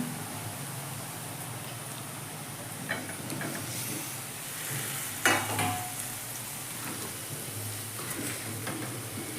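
Steady sizzling of drumsticks frying in a pan, with occasional clinks and stirring sounds, continuous and fairly close.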